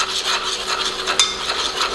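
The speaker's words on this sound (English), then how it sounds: "Continue to stir. Don't leave this sitting." A spoon stirs barbecue sauce as it simmers in a pot on a stove over medium-low heat for a cheddar bacon burger, a steady soft scraping and rubbing with a faint sizzle underneath.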